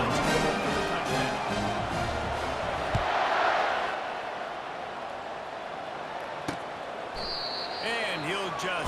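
A stadium crowd roars and cheers in the video game College Football 25 at an FCS West matchup, a dense sustained wash of noise over game music and commentary, with a louder swell in the middle.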